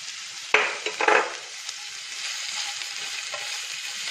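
Beans, carrot and cabbage stir-fried for American chop suey, with two loud bursts of sizzling and scraping near the start, then a softer, steady frying hiss close by.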